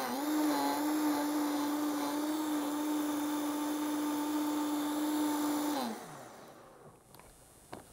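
A blender whirs steadily at high speed while blending a berry and apple juice smoothie, a loud continuous motor whine for several seconds that then winds down and stops.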